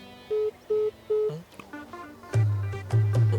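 A phone keypad gives three short, evenly spaced dialing beeps, followed by a few softer mixed tones and then two longer, louder tones, all fairly close and clear.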